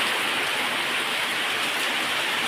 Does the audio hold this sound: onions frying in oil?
no